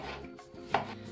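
A knife cuts through crisp cabbage in a few quick, close strokes, with one sharper crunching slice against a board.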